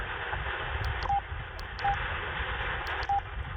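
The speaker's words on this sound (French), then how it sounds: "Vous voyez, il y a quand même une sacrée différence au niveau de la réception." Amateur radio reception through a President Georges II CB set with its DSP noise filter on, a band-limited steady hiss carrying a few short beeping tones at intervals.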